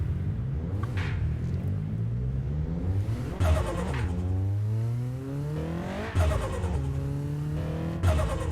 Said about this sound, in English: Start the car, of course.